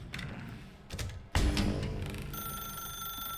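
A telephone rings in the video game The Stanley Parable, its bell starting with a sharp burst and sustaining as a steady electronic tone against a noisy mechanical background.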